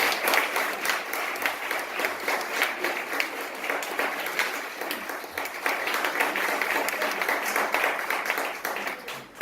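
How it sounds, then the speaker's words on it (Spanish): Steady, sustained applause from a church congregation, dense clapping at an even loudness throughout with no talking. "Denle un aplauso al Señor entonces."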